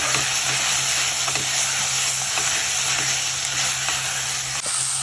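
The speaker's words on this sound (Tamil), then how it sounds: "போட்டு நல்லா வணக்கிக்கலாம்" Tomatoes, green chillies and a handful of coriander sauté in a hot pan while cooking mutton nombu kanji, giving a steady, loud sizzle and crackle that runs unbroken and close throughout.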